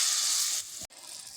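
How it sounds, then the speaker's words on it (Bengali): A dab of jalebi batter drops into hot oil and sizzles with a bright, close hiss that fades partway through, then settles into a quieter, steady fizz. "অল্প একটু ব্যাটার দিয়ে দেখে নেব তেলটা গরম হয়েছে কিনা"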